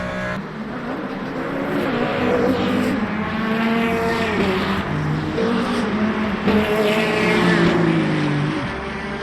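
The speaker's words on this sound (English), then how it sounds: "I must say the Ferrari sounds awesome." A loud Ferrari GT3 race car engine in the racing game Le Mans Ultimate drones continuously, its pitch rising and dipping with gear changes, dense and roaring throughout.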